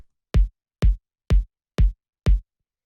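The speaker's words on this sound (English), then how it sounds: "The next thing that we have here is the kick, which sounds like this." Five punchy, deep kick drum hits for minimal house, evenly spaced at a steady rhythm, each short with a heavy low thump and a brief click on top, played alone and close with silence between.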